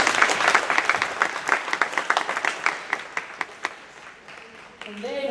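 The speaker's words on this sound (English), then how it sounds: "So all of you guys give them a round of applause for being here tonight at 6:30 on a Monday." An audience at a high school band winter concert applauds loudly and steadily, the clapping thinning into scattered claps before a voice starts speaking at the very end.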